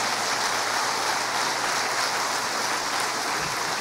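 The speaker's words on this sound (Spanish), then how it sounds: "Denle un aplauso al Señor." Church congregation applauding during a Spanish-language service, a dense, even wash of clapping that holds steady for several seconds without speech.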